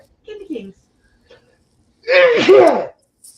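A brief murmur of speech, then a single loud, forceful sneeze bursts out with a voiced, wavering edge.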